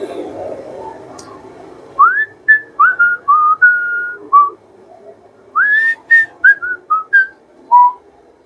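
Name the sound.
person whistling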